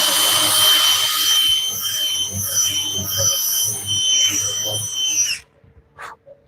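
A power drill whirs loudly and steadily for about five seconds as it bores a makeshift countersink into a workpiece, then stops abruptly, followed by a few faint clicks.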